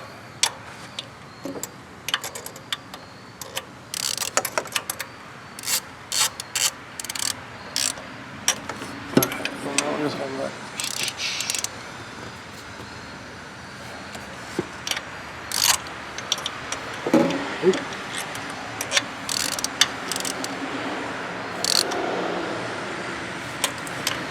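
A hand ratchet tightens the throttle body bolts on a Buick Lucerne's GM 3.8 engine, giving bursts of rapid close clicking, irregular and repeated, over a faint background hum.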